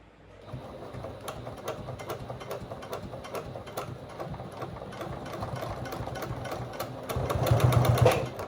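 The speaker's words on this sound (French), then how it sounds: "on va déjà la fixer dans la marge de couture par un petit point pour ne plus qu'elle bouge" A sewing machine runs a short stitch into the seam allowance of a fabric bag, a steady rapid mechanical whir with a clicking rhythm that swells louder near the end, no talking.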